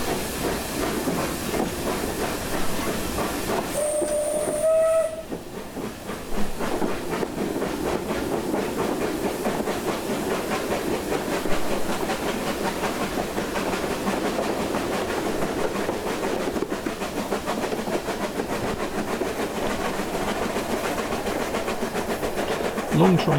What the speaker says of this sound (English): Pulling out from Port Soderick Station, you can certainly hear them working on the long train.